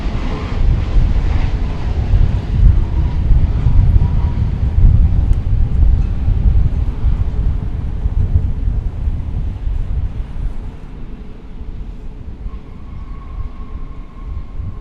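An American Airlines Boeing 787-8 on a diverted Dallas–Amsterdam flight rumbles past at DFW with a loud, low, steady engine roar that slowly fades, wind buffeting the microphone.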